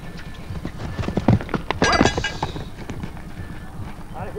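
Horse hooves clip-clop during a riding lesson at Vindás, with steady, moderately close hoofbeats under an instructor's talking and occasional louder thuds.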